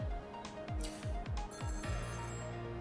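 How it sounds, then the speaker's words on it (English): A telephone ringing in the game Ghost Trick Phantom Detective, a series of rapid repeated bell rings in quick bursts, fairly soft and alone. "In a short bit, we get a second phone call"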